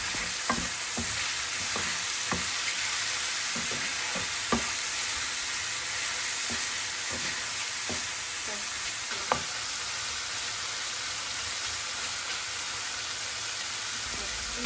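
Chicken fries for stir fry noodles in a pan, a loud steady sizzle that runs throughout, broken by repeated clicks and scrapes of stirring, close up.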